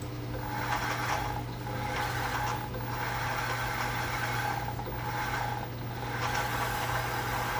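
A Qualstar 1260 9-track tape drive writes test data, giving a steady mechanical whir and hum with a low constant drone and slow, regular swells, close and alone.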